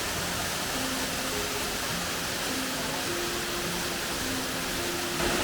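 Double waterfall on a wooded Istrian trail, a dense unbroken roar of falling water filling the whole clip, loud and close, with faint tonal hums running through it.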